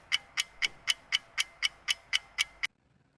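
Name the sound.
ticking clock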